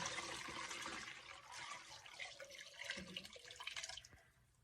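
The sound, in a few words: pouring ginger juice through a strainer into a KitchenAid bowl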